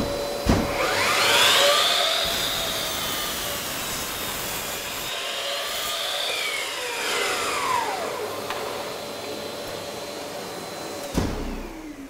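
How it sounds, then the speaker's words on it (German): A Bosch 18V cordless vacuum cleaner runs with a continuous high whine whose pitch rises and falls as it works, heard close and alone with a few knocks. "macht für mich den Staubsauger an"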